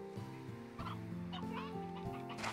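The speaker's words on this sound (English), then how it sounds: "Elder hen." An elder hen in Slime Rancher 2 clucks and gobbles in short, choppy bursts over a sustained tonal game background, a few distinct calls spread across a couple of seconds at moderate volume.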